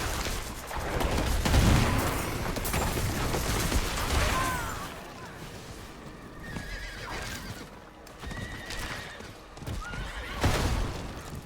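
A horse whinnies in the Diablo 4 video game, with hoof clip-clops and some sharp combat bangs mixed into a busy game soundscape at moderate loudness.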